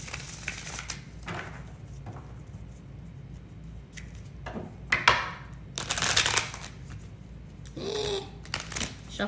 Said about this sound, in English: Shuffle very well and move off to the side.